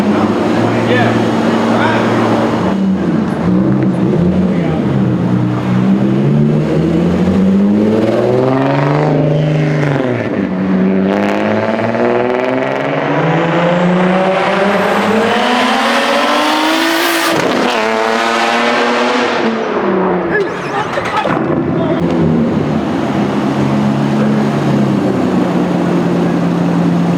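A big-turbo Nissan 350Z street car revs hard up close, its engine climbing and dropping through several loud pulls with a sharp spike near the end, while people talk over it.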